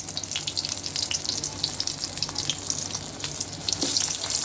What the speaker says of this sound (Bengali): এখন আমি বেগুনটা তেল দিয়ে ভেজে নিব। এক এক করে তেলের মধ্যে ছেড়ে দিচ্ছি বেগুনটা।